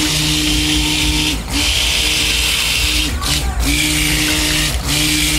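A blender runs steadily, mixing heavy whipping cream into soap batter, a loud continuous motor whir with brief dips where it pauses or shifts, and no talk over it.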